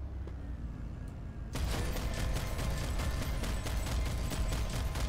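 Rapid gunfire aimed at an APC bursts in suddenly after a quiet start, then a sustained, dense fusillade of closely spaced shots continues loud to the end.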